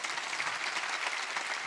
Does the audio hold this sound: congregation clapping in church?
yes